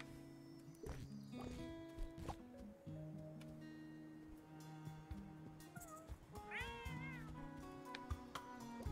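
Cat meowing in a video game, several clear rising and falling meows over a busy bed of game sounds and footsteps, with no voices.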